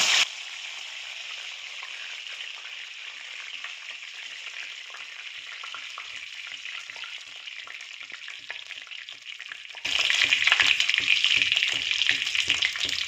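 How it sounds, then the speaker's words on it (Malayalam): Curry leaves drop into hot oil where mustard seeds have already spluttered, for a bilimbi pickle; a steady, moderate sizzle runs throughout, then swells into a louder, crackling burst near the end as the leaves hit the oil. "ഇനി കടുക് പൊട്ടിക്കഴിഞ്ഞാൽ നമുക്ക് അതിനകത്തേക്ക് കുറച്ച് കറിവേപ്പില ഇട്ട് കൊടുക്കാം"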